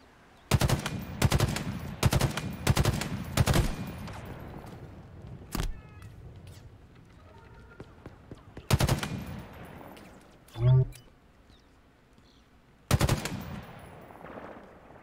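Automatic gunfire from Halo Infinite comes in several loud, rapid bursts separated by quieter gaps, with a few lighter single shots and a short electronic tone between them.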